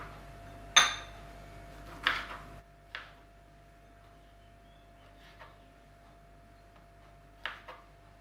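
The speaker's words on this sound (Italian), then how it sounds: "Taglio qualche mora e qualche lampone" A knife taps against a cutting board while slicing large blackberries and raspberries, a few sharp, isolated clicks spaced seconds apart in a quiet kitchen.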